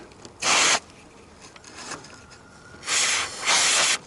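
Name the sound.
spraying silicone lube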